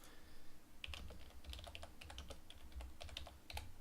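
Rapid keystrokes on a computer keyboard while entering tags and text into a web form, irregular clicks and short bursts of typing at close range over a soft background hum.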